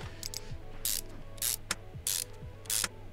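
Rapid ratcheting clicks of a tool working on a brake disc in Car Mechanic Simulator 2021, heard in short repeated bursts of about four rounds with brief gaps, fairly quiet and close, over faint background music.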